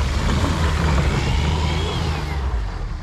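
A Smart car making a boosted launch with one wheel spinning, a loud continuous engine roar and tire rush that holds steady and eases slightly near the end.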